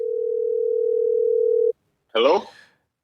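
A steady telephone dial tone runs for under two seconds at the start of a phone call, then cuts off, and after a short pause a voice begins speaking.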